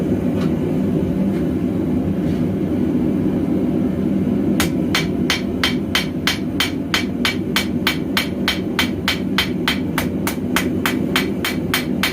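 Steady hammer blows strike a knife blade while its distal taper is forged, a fast and even run of sharp ringing hits starting partway through over constant loud forge roar.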